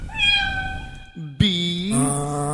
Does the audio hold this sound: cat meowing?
yes